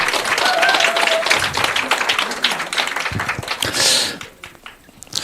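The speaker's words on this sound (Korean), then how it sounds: "다시 한 번 더 뜨거운 박수 우리 탐미자님께 부탁드리도록 하겠습니다." Seminar audience at a business presentation gives a round of applause, fairly close and moderately loud, tapering off unevenly near the end with a few scattered claps.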